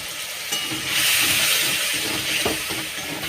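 Ground turmeric and chilli powder sizzle and hiss loudly in hot oil in a pan as water is added, a steady close-up frying crackle for aloo potol dum, with no talking.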